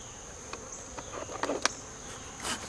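Angry honeybees buzz in scattered bursts while being cleared from a hive, with sharp whining passes close by over a steady hum of the swarm.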